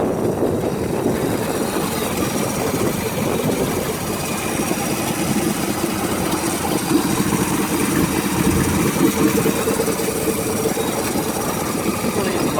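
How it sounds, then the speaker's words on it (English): A 1947 DeSoto S11 engine idling outdoors in winter, a quiet engine giving a steady low rumble that holds evenly for several seconds, heard up close. "You can tell that that's a really quiet engine."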